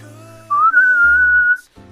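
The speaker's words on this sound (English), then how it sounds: "He's going to blow the whistle." A referee's whistle sounds one clear, steady blast lasting about a second, rising slightly in pitch at the start, loud and close against a quiet background.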